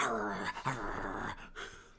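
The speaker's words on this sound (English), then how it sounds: "It's Icarus barking" A dog's growling, whimpering vocalisations in a home, close and continuous with brief yips, followed by a softer trailing rumble.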